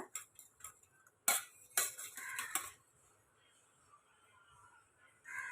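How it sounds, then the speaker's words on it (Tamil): Metal ladle clinking and scraping inside a pressure cooker as cooked dal is lightly mashed for sambar, several sharp close knocks in a short burst, then quieter faint scraping. "ஒரு புளிக்கரண்டி எதனாலும் இருந்தால் இப்படி லைட்டாக மசிச்சு விட்டுக்கோங்க"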